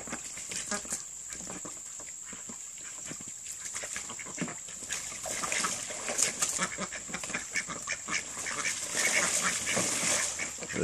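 A group of young drake ducks squabbling together, giving a busy, continuous mix of raspy calls, scuffling and fluttering, fairly close, under a steady high background hum.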